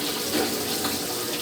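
Water rushes steadily into a Consul Maré Super 10 kg top-loading washing machine as it fills, a continuous hissing flow heard close up with no talking.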